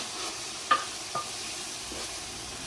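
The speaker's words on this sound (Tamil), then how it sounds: "நான் இப்போ இஞ்சி உள்ளி பேஸ்ட் எல்லாத்தையும் சேர்க்குறேன்." Ginger garlic paste hits hot oil in a frying pan while mutton biriyani is being cooked, a steady close sizzle broken by two brief utensil clinks, no voices.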